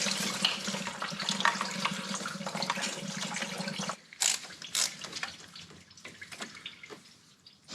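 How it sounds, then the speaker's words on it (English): A 10mm socket ratchet loosens bolts on a leaking VW coolant flange, with water trickling steadily through the first half, then sharp metallic clicks and clanks of the tool, up close and without talk. "10mm socket to get out these bolts."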